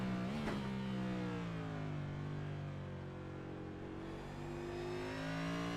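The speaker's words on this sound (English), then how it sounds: "I'm gonna jump on board with Fetter Place to hear his revs and everything." A race car engine in a racing video game revs steadily at high pitch from an onboard view, a sustained whining drone that dips and climbs again as the car shifts gears, with no talking.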